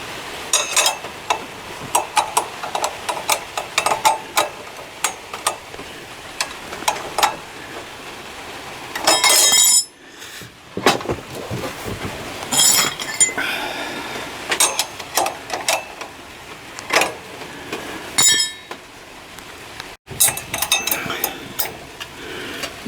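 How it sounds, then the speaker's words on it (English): Metal spanners, one small and one large, clink and scrape while hand-tightening parts on an NSU Quickly S23 moped. The clicks and taps come in irregular bursts, with a short quiet gap in the middle. "I must get the special spanner for tightening it"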